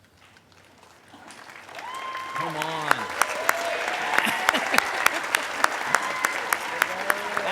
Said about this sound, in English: standing and offering them a rousing round of applause